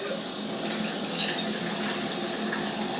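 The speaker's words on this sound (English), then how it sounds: "I'm going to do my 2 cups of water first." Cold tap water pours steadily into a 4-cup glass measuring cup, a continuous close splashing rush with a bright hiss, heard alone without talk.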